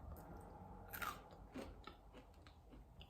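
Crispy Indonesian banana coconut fritters being eaten: close, quiet chewing with a few crunchy bites, no talking.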